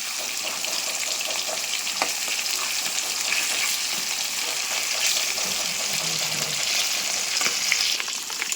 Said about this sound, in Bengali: মাছগুলোকে একটু ভালো করে ভেজে নিতে হবে আগে